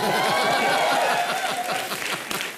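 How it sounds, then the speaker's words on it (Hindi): Loud applause and cheering from a studio audience on the Comedy Nights With Kapil television comedy show, continuous across the clip with crowd voices and rhythmic clapping mixed in. "जोरदार तालियां होनी चाहिए"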